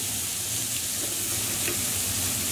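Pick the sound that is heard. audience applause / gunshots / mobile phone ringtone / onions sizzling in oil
onions sizzling in oil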